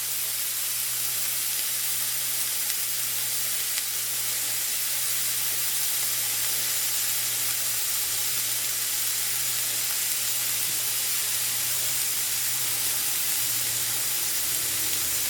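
Food sears in a hot pan, producing a loud, unbroken hiss and sizzle that holds steady throughout with a low hum beneath and no voices.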